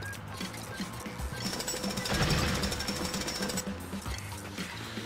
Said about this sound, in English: So now I got a jackhammer.